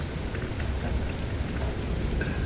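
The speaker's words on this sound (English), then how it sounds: "In the rain, you hear rumbling in the distance" Steady, dense rain falls on a surface with a low rumble of distant thunder beneath it, forming a continuous close wash of sound with no voices.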